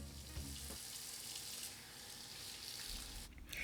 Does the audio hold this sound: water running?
yes